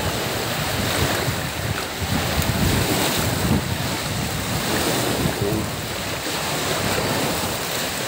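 Steady roar of sea waves washing onto Tangkaan Beach, broad and continuous, with wind buffeting the microphone throughout and no voices.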